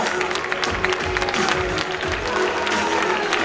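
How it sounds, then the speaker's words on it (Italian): An audience applauds at the opening evening of the Riviera dei Cedri Cup tournament in Scalea, dense steady clapping from a crowd heard close and loud throughout, with a low murmur underneath. "facciamogli un applauso"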